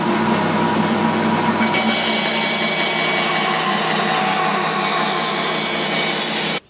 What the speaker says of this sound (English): I'm going to do it on this bandsaw.